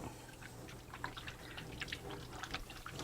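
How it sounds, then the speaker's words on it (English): A faint, quiet trickle of running tap water in a kitchen as hands are rinsed, soft splashing and dripping at low level with no talking. "So let me give my hands a quick rinse."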